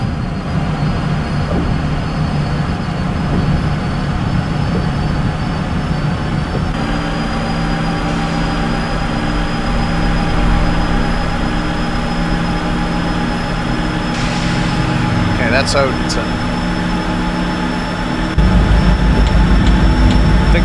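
A PRR V2 locomotive hauling the Santa Fe Express accelerates in a train simulator game, giving a steady loud rumble with a constant tonal hum and a brief higher whine partway through. A voice speaks once over it.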